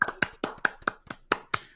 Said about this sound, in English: She's like, is that why everyone's clapping?